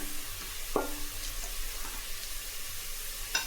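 Green chillies sautéing in a pan, giving a steady soft sizzle with a few brief metallic scrapes from a stirring spoon and no voices.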